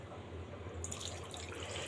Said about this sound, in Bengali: এবার আমি দিব পরিমাণ মতো পানি।